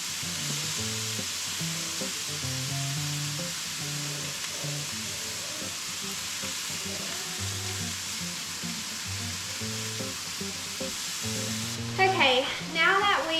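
Meatballs fry in a pan with a loud, steady sizzle and hiss, while background music plays beneath, ending in a brief burst of clattering or stirring near the close.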